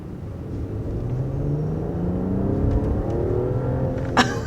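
2021 Mercedes S-Class with a 3-liter turbocharged inline-6 accelerating: a steady engine drone rising smoothly in pitch, heard from inside the car, moderately loud with a faint click near the end.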